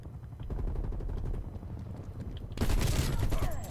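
AK-47 gunfire in Black Ops Cold War: steady rapid automatic bursts over game noise, growing louder and denser in the last second with an explosive crack.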